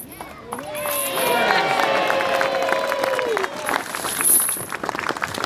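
Crowd cheering and whooping at an outdoor street performance after an escape act's chain comes off, a loud sustained roar of many voices with some clapping that fades over several seconds.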